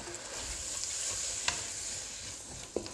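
Beef sizzles as it is stir-fried with rice wine in a pan, a steady quiet hiss broken by a couple of sharp utensil clinks near the middle and end, with no talking.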